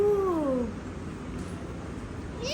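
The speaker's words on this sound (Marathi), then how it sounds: "ही बघा मांजर इथं" A cat in Goa gives a clear, drawn-out meow at the start, then falls quiet before a second meow rises at the end; both are close and loud.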